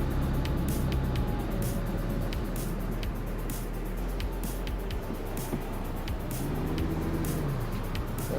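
A Lamborghini Performante LP 570-4 with raised suspension climbs a hillside driveway, its engine a steady low drone that stays loud and continuous from start to finish.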